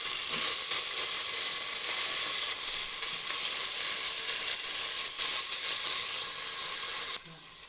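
Washed potatoes and eggplant fry in hot oil in a pan, giving a loud, steady, close sizzle that thins out near the end. No one speaks.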